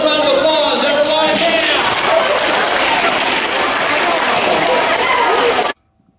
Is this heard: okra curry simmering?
no